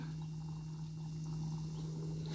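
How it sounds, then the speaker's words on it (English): Johnny cakes fry in hot oil, giving a steady, even sizzle with soft bubbling under a constant low hum. Nothing else is heard. "they're all sizzling, bubbling away"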